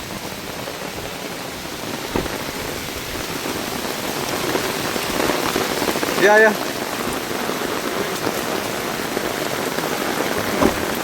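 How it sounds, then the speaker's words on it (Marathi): Heavy rain falling outside near Mahabaleshwar makes a loud, steady hiss of drops on surfaces, with a brief voice heard under it. "सो बाहेर भयंकर पाऊस चालू आहे"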